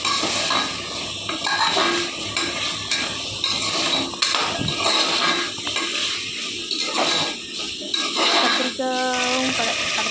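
Vegetables, including brinjal, being sautéed in a pan for sambar rice: a continuous metallic clatter of stirring against the pan with a faint sizzle, close by, while someone speaks over it.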